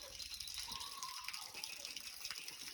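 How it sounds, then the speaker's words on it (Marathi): Water runs steadily from a newly plumbed tap at a village house in Konkan, a constant, fairly faint hiss and splash with no pauses. "बघ ना पाणी किती येते अजून"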